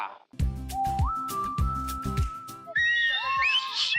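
A whistle blown on a Telugu TV game show: a sustained, steady tone that rises into place, set against loud musical bursts and followed by higher shrill notes near the end.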